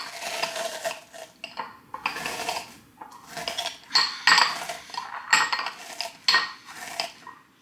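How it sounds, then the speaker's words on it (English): Potato chip cookie dough being mixed in a bowl with a utensil, giving a run of rhythmic scraping and clinking bursts, close and fairly loud, with brief pauses between strokes and no talking. "It is working, I just gotta mix it up a little bit."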